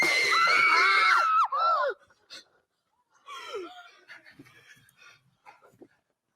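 Staged gasps and screams are performed during a Murder Mystery Company pitch: a loud high shriek with sliding pitches, then a pause and quieter breathy gasps and pants.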